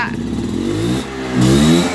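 A new Vespa scooter engine revs close by, its pitch climbing, dipping, then rising again in a loud, buzzing drone.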